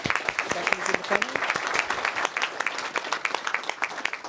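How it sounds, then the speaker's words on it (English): Audience applause for speakers at the close of a panel session, with dense clapping that stays steady and fairly loud for several seconds in a large room. "let's have a good round of applause for the great speakers in the panel"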